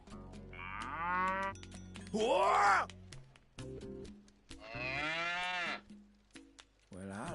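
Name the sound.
Bororo cattle mooing in the video game SandLand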